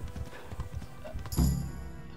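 Horse hooves in a video game clop rhythmically on the ground, close by, amid busy background noise.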